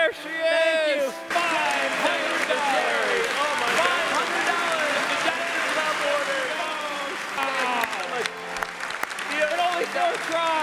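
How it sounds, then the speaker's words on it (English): An audience applauds at a comedy knife-throwing show by The Passing Zone. The steady clapping runs throughout beneath excited voices and cheering that stay prominent over it. "Keep that applause going"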